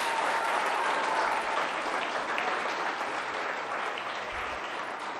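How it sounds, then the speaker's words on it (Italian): Sustained applause from an audience at an Italian sports club presentation, greeting the PSM Rapallo volleyball section, steady dense clapping lasting throughout with no voices over it. "facciamo subito un bel applauso"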